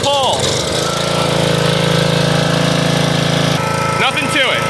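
A Husqvarna lawn mower engine catches on the first pull and runs at a steady, loud, throbbing drone, with brief voices near the start and end.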